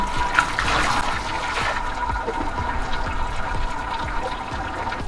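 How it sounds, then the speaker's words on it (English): Grains being slowly rinsed with water during a home brew day for a hazy IPA: a continuous, close wash of pouring and trickling water, somewhat stronger at first and then settling into an even flow. "what I'll do now is slowly rinse the grains"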